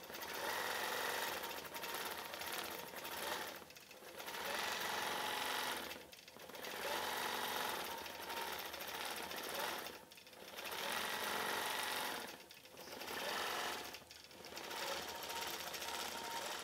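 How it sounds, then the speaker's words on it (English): A quilting machine stitches a cross-stitch embroidered quilt, running in a loud, steady mechanical whir broken by short pauses every few seconds, with no talk over it. "let's just tell it to quilt and see how that turns out"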